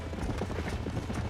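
Horse hooves clip-clop in Red Dead Redemption, a brisk, close, steady rhythm of several animals moving over ground, with faint mechanical noise underneath.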